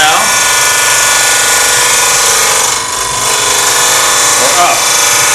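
Woodturning lathe spinning a segmented wood blank while a scraper cuts, a loud steady whirring hum with a continuous scraping rasp, brief dip midway, and someone talking over it.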